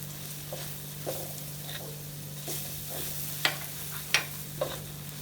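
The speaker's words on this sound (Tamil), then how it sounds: "தூளை போட்டு கிண்டுங்க." Spice powder being stirred in a pan while making a dry chicken varuval, with a steady low sizzle and a few sharp scraping clicks of the spoon, close and fairly quiet.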